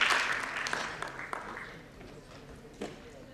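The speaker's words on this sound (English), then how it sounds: "Clapping में भी कंजूसी की हो रही है, please give a big round." A conference audience at a sports and exercise medicine session gives a round of applause that starts fairly strong and quickly fades to scattered claps.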